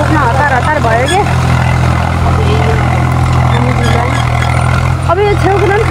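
A tractor engine runs loud and steady on a village road, its low chugging drone constant throughout while people talk over it.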